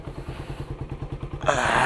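A carbureted Suzuki Raider 150 motorcycle engine runs close by with a steady, lumpy pulsing beat, then grows louder and rougher near the end, as if revved.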